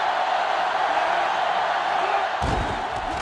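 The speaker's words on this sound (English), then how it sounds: "this crowd is going crazy" Crowd noise from an NCAA Football 2005 game on GameCube, a steady roar of a stadium crowd cheering throughout, with a short burst of impact-like noise near the end.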